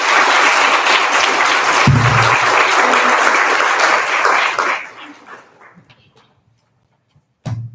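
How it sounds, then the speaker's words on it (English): Audience applause at a BFA reading, a loud sustained clapping for about five seconds that tapers off into silence, followed by a brief burst of talk. "why don't we get another round of applause for both Sophie and Aspen?"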